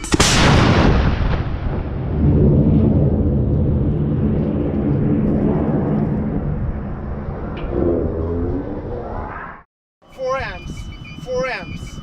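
A rocket engine test firing makes a loud, sustained roaring blast that starts abruptly and rumbles on for about nine seconds before cutting off. Chirping and electronic beeps follow, with voices talking over the test.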